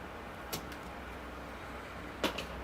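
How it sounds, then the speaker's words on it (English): A branch being pruned from a white ash bonsai: two short, sharp cutting snaps, about two seconds apart, over a quiet steady background. "I'm going to prune away the one out front here."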